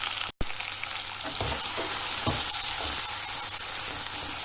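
Tomatoes cooking in a pan with ginger garlic paste for dal, giving a loud, steady sizzle with a few stirring scrapes and a brief gap near the start. No one speaks.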